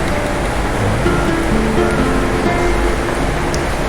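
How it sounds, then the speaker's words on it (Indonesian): Steady, dense rushing noise like heavy rain pours continuously, loud and even, with no gaps or other sounds standing out. "terjadi hujan lebat ya, disertai guntur"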